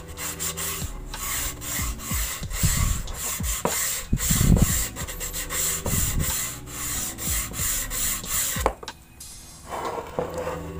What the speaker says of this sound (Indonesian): kita amplas menggunakan tangan saja, manual, supaya lengkungan lebih sempurna